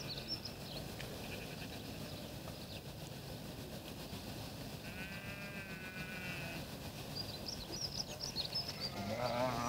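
A sheep on a Belgian farm in 1973 gives one faint, wavering bleat midway through a steady broadband rumble of background noise. The rumble grows a little louder toward the end.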